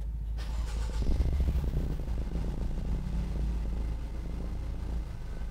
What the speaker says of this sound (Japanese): でエンジンの方始動していきます。